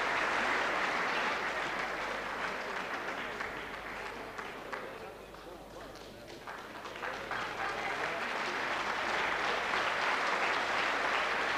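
A crowd at a boxing bout applauds and cheers in a sustained roar. It dips briefly in the middle and then swells back up to full volume.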